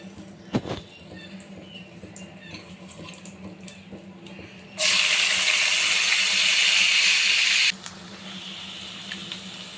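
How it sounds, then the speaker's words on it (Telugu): Green chillies and onion frying in a pan, a steady hiss of oil that swells loud for a few seconds in the middle before settling back to a softer sizzle. "పచ్చిమిరపకాయలు ఆనియన్ కూడా గోల్డెన్ కలర్ వచ్చే వరకు ఫ్రై చేసుకుంటున్నాను"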